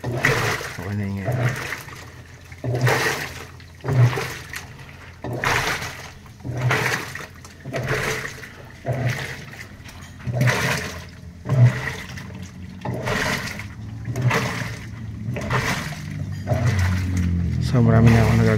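Water gushing into a Panasonic automatic washing machine tub under repair for a U11 error, rhythmic surging splashes and churning repeating every second or so, close by, with someone talking over it.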